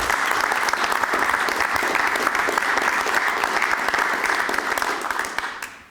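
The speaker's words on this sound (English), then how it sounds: "I would like to have the audience to give you a round of applause" A large audience at a foreign policy event breaks into sustained, dense applause, loud and steady throughout before tapering off at the very end, with no speech over it.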